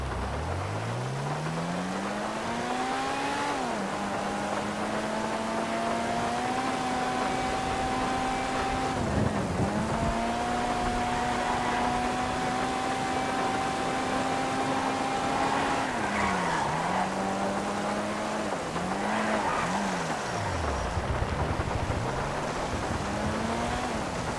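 A Swinger car on a test drive skids and squeals its tires in long rising and falling whines, loud and close, with engine roar underneath and no talk.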